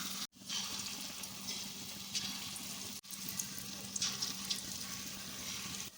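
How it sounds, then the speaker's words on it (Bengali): Mung dal fritters (bora) frying in hot oil, giving a steady close hiss and crackle with a brief break near the start and another at three seconds, no voices present. "ভেজে নেব বড়াগুলোকে।"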